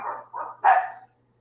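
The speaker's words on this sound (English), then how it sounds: "Sorry for the dogs." Dogs bark at home, giving three quick, close barks in succession, the last one loudest, followed by silence.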